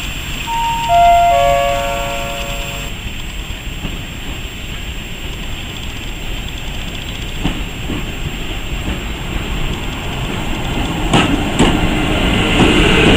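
A train rumbles steadily past at speed through Łowicz Główny station in Poland without stopping, a broad roar building toward the end, with a brief chime-like tone near the start and no one speaking.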